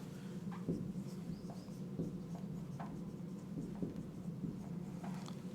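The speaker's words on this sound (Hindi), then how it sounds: "डिटर मैं लिख देता हूँ, नीचे को लिख देता हूँ" Chalk or marker scratches and taps steadily across a board during an English grammar lesson, quiet and close, in short repeated strokes with small pauses between them.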